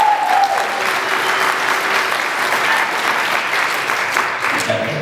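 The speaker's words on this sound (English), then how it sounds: "That applause is really for you" Conference audience applauding loudly and steadily after a keynote speech at the 2015 Sustainable Food & Farm Conference, a dense wash of clapping that holds the whole time.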